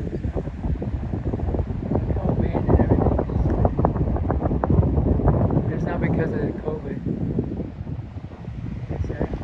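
Gusty wind at Newport Beach, California buffets the microphone with a constant low rumble, while a voice speaks underneath throughout.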